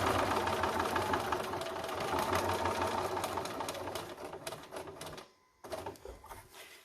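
A sewing machine stitches a concealed carry belly band with a rapid, steady mechanical chatter. It stops abruptly near the end, then makes a brief burst of stitching before falling quiet.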